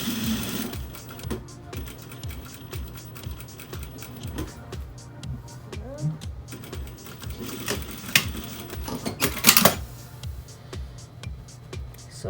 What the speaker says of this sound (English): this is where I'm going to sew on both sides.